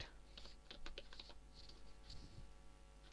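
Quiet typing on a computer keyboard entering an HTML paragraph tag, a short run of faint, close clicks over a constant low hum, with no voice.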